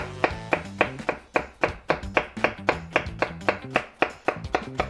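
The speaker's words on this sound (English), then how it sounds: "We can now start chopping our garlic." A knife chops garlic into thin slices on a cutting board in a quick, regular run of about twenty crisp taps, close and fairly quiet, with no voices.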